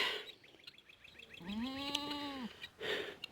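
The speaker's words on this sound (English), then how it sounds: "these goats don't want to leave my jacket alone" A goat lets out a clear, drawn-out bleat in the middle, with faint rustling and other quiet animal sounds around it.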